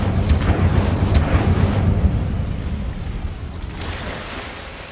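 Incendio fire spell cast in Hogwarts Legacy, a loud rushing burst of flame with a rumbling low roar and crackles that slowly fade over several seconds.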